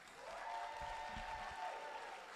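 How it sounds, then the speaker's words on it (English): Applause for early graduate cohorts at a graduation ceremony, a soft, steady patter of many clapping hands, quiet and somewhat distant, with a faint tone running beneath it. "Can we give it up for the early graduate cohorts?"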